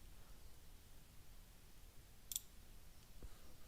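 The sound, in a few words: computer mouse clicking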